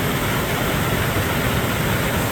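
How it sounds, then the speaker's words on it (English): A small waterfall at Tucquan Glen pours in a steady, dense broadband rush with no breaks, close and fairly loud throughout, no voices over it. "then that very nice small waterfall"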